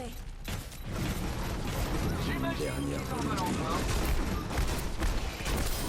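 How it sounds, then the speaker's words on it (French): In the video game Overwatch, gunfire from Torbjorn's gun and turret rattles in a dense, continuous mechanical barrage amid game effects, with a voice talking over it. "donc là je bombarde avec mon petit gun en même temps"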